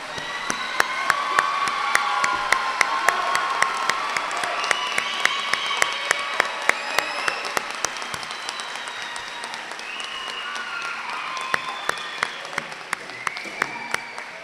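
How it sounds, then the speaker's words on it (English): Graduation audience at an adult education commencement breaks into sustained applause mixed with cheers and whoops, broad and steady throughout with sharp individual claps standing out. "Let's give them all a big applause."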